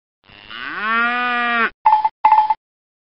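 A cow mooing in the Bailey's Book House computer game: one long loud rising moo, then two short clipped electronic tones, clean and close, with no voices.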